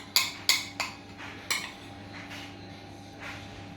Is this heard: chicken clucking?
no